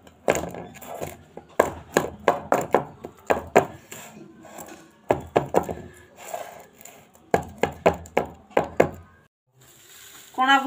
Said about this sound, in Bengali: এবার একটু আমি থালাটাকে 2-3 বার ঝাঁকিয়ে নিচ্ছি